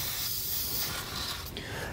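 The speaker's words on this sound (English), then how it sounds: "So I'm going to go ahead and spray these down real quick." Aerosol spray hissing steadily onto trailer hitch mounting points under a 2022 Honda CR-V, a continuous close hiss with a brief break near the end.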